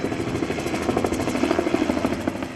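A U.S. Army or fire department helicopter works over a Hawaiʻi wildfire, its rotor chopping in a steady rapid pulse at moderate distance with a continuous engine drone.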